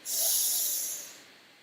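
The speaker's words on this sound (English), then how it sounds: "Breathe in." One long, deep inhale through the nose during a breathing exercise, a close, airy hiss that swells quickly, holds, then tapers off over about a second.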